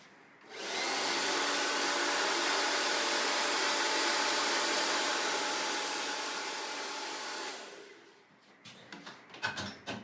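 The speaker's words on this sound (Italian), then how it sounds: "in questo caso si utilizza un phon" A hair dryer drying a wet straight razor handle switches on and blows with a loud steady whoosh for several seconds, then winds down, followed by a few handling clicks.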